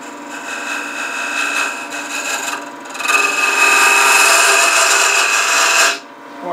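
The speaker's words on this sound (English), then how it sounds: "using some type of square-end scraper, in this case I'm going to use a box scraper, I'm going to go ahead and start trying to get nice parallel walls" A box scraper cuts into a spinning wooden cup chuck on a lathe, giving a loud, close, continuous rasping scrape in two long passes separated by a brief lighter moment, then cutting off abruptly.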